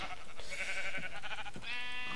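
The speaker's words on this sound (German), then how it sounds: "So, noch ein Schaf." A sheep bleating in the Minecraft video game, two or three wavering bleats in quick succession, clear and fairly loud over a faint background.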